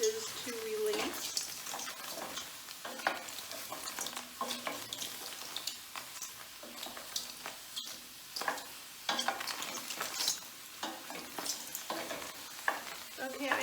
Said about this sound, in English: I'm going to cook these for a while